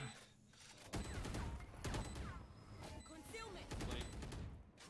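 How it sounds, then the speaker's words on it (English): Valorant-style rapid gunfire from a Yoru agent rattles in repeated bursts during a team match, loud and close, with players talking over it. "Bro, that was a Yoru shooting at you."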